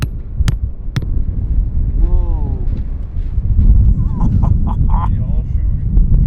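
Strong, dusty desert wind buffets the microphone with a low, gusty rumble while voices talk over it throughout, at the Dakar 2026 rally.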